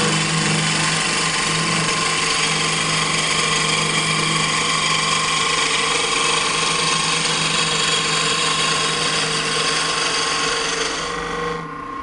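Steady hum of a spinning wood lathe with a chisel shaving a taper into a turned leg, a continuous loud scraping drone with tonal whine that holds even throughout and eases slightly at the end.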